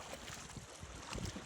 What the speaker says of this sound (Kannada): ನಾನೀಗ ಅಳಿವು ಬಾಗಿಲಲ್ಲಿ ಇಲ್ಲಿ ಸೀವಾಕ್ ಹತ್ರ ನೀರಲ್ಲಿ ದೋಣಿಯಲ್ಲಿ ಹೋಗ್ತಿದ್ದೀನಿ.